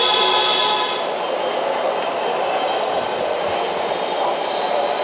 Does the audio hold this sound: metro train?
yes